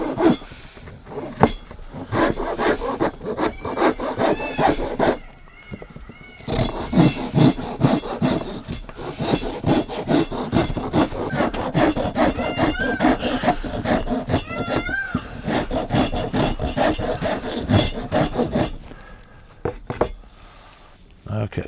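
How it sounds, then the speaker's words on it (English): A hand tool scrapes at a whittled wooden human figure, a busy stream of rough rasping strokes, close and fairly loud, broken by two brief pauses, with a voice talking now and then. "Now, sometimes you can use a rasp for this."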